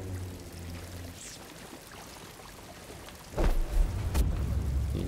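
Flowing water in the video game Star Wars Jedi: Fallen Order, a continuous pouring, splashing rush that grows louder and heavier partway through, close and unbroken with no speech.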